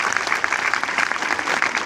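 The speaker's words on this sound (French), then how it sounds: "On peut l'applaudir également" Brief, dense applause from a cinema audience at a film premiere screening in Amiens, steady and close for under two seconds.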